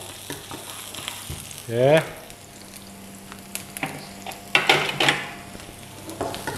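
Stir-frying in a pan with sesame oil, a constant sizzle with metallic clinks and scraping of a utensil against the pan, plus a brief spoken word early on.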